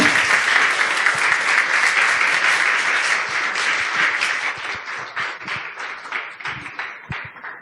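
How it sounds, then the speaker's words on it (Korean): An audience at a parent education seminar applauds the lecturer, beginning as dense, loud clapping that gradually thins out into fewer, distinct claps as it fades toward the end. "우리 강사님께 다시 한번 우리 감사의 박수 드렸으면 좋겠습니다"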